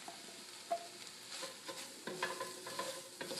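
Mushrooms frying in a pan with translucent onions, a steady close hiss of sizzling under a few stirring scrapes and clicks, with no talking.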